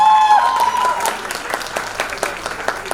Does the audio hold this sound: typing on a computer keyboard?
no